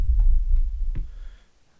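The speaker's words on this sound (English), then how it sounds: "Sounds like a heartbeat." Low, heavy thumping heartbeat in the horror video game Layers of Fear, a few deep throbbing pulses with faint ticks that fade away into near silence.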